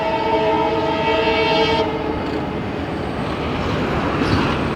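A train running on the new Pamban rail bridge to Rameswaram, its horn sounding in a loud sustained blast that cuts off, leaving a steady rumble of wheels and carriages.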